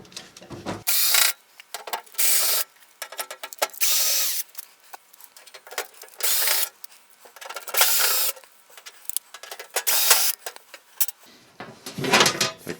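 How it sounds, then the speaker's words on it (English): A cordless driver with a bit backs screws out of a Ridgid R4512 table saw, repeated loud whirring bursts of one to two seconds with short pauses between, close up. "So I've got a bit on my driver here, and I'm going to just pull these off."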